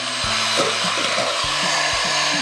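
Eggs being beaten for a baked strawberry cheesecake filling, a steady whirring mixer running close and continuous throughout, with low intermittent knocking of the beaters against the bowl.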